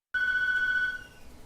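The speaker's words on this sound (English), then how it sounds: "Can anybody hear that ringing? Yes, you stepped back into 1994 and there's a house phone." A house phone rings once with a steady electronic bell tone that lasts under a second and then fades, clear and close against a quiet background.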